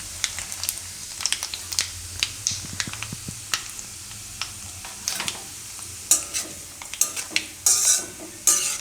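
Coriander seeds and nigella are stirred into hot oil off the flame, giving a soft sizzle under frequent scraping and clicking of a spoon against the pan, with a few louder metallic knocks near the end.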